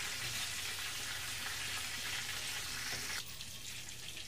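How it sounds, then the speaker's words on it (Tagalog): Chicken cordon frying in hot oil gives a steady, fairly faint broadband sizzle that stays even throughout and quietens slightly near the end, with no voices over it. "So habang pinapaluto natin itong ating chicken cordon"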